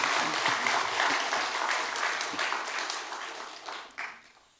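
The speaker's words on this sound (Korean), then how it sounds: "격려의 박수를 한번 하시도록 하겠습니다" A church congregation claps in encouragement for a member about to give a testimony, a broad steady wash of applause that thins and tapers off toward the end.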